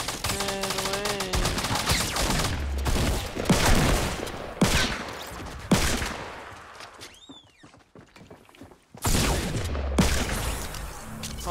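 Rapid gunfire bursts from a Fortnite solo match, dense volleys and single shots crackling in quick succession with game effects, a brief lull in the middle, then renewed firing.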